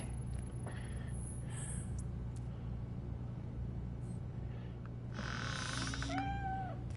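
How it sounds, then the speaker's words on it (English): A cat in the RoboCop video game meows several times, with short high cries scattered over a steady low traffic-like hum and a longer wavering meow near the end. "There he is. It's Felis Domesticus."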